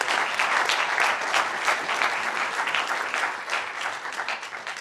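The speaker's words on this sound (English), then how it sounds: "But one more round of applause for the Buffaloes" A sustained round of applause from an audience at a Rare Disease Day event, a dense, even wash of many hands clapping at steady loudness, fading slightly toward the end with no speech over it.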